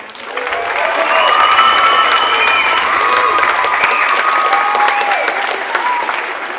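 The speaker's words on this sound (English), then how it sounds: "Give her a round of applause" A camp show audience gives a sustained round of applause for the camp director, dense clapping swelling in quickly and holding steady with light cheering and voices underneath.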